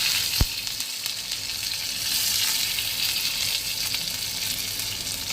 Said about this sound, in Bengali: এইগুলোকে একটু হালকা ভেজে নেবো